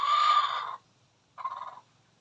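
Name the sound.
chickens clucking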